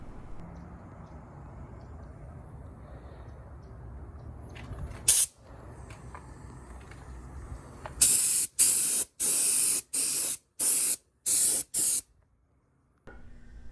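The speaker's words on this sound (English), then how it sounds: "So I'm gonna get this one sprayed" Spray gun coating car body panels for a Datsun 260Z in a garage: a short hiss, then a run of six loud bursts of spray in a steady on-off rhythm over a low background hum.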